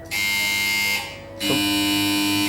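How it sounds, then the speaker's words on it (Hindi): A game show buzzer on an Iftar quiz set is pressed twice to test it, each press giving a loud, sustained harsh electronic buzz with a brief gap between. "बजर बजा के चेक कर लें इधर"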